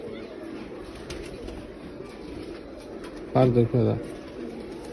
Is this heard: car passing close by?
no